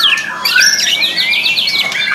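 A murai batu (white-rumped magpie robin) in a bird shop sings loudly and continuously, with rapid up-and-down whistled phrases and squawky notes filling the whole stretch, no talk.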